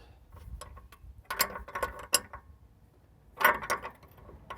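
Metal ratcheting clicks come in two short bursts as a brake hose fitting on a Bedford bus is tightened with an 18mm spanner in a cramped space, sharp and close with quiet pauses between.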